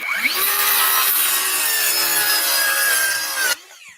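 A saw cuts steadily through plywood, a continuous close rasping stroke that runs for about three and a half seconds and then stops abruptly, with no talking.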